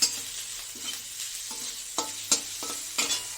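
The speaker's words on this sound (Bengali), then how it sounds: "এটা কষিয়ে নিয়ে তারপর আবার দেখো এই যে আমার অনেকটাই কষানো হয়ে গেছে" Water lily stems with salt, turmeric and spices are stir-fried in oil in a pan for a prawn dish, giving a steady close sizzle punctuated by rhythmic scraping strokes of a spatula.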